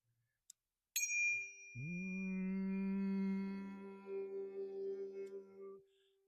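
A sustained 396 hertz tone rings out steadily, struck with a sharp onset and then swelling and wavering toward the end, played outdoors at Ballynoe stone circle in County Down with no voices.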